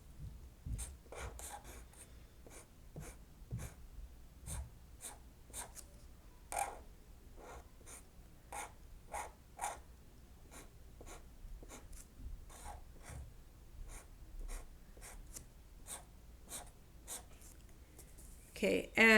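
A pencil sketches a cube model by hand on paper with steady scratching strokes, repeated rhythmically and close while a voice speaks intermittently.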